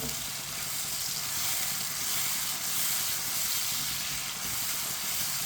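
Green chili and tomato sizzle steadily in a pan while being stirred, a continuous close, bright frying hiss with faint spoon movement and no voices.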